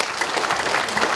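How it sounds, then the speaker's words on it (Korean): A crowd at a book launch event applauds warmly, a brief burst of dense clapping heard alone at close range. "뜨거운 박수 한번 부탁드리겠습니다"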